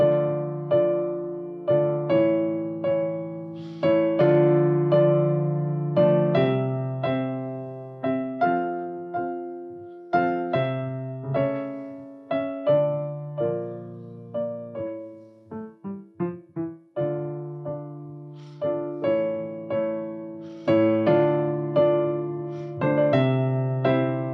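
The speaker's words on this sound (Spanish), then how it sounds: "Y una folía, por ejemplo, suena así." An instrumental folia melody plays over plucked chords in a steady, stately rhythm, clear and close, with no one speaking.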